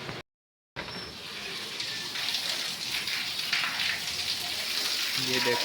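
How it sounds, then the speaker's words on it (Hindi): Heavy rain falls outside at night as a steady, dense hiss of drops on surfaces, continuing throughout after a brief silent gap at the start, with a short spoken remark over it. "बाहर बहुत तेज़ बारिश हो गई है"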